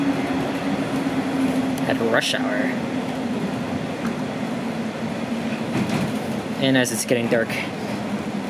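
A Toronto TTC Line 1 subway train rumbles along with a steady low hum and rattling, while a person speaks briefly over the continuous ride noise.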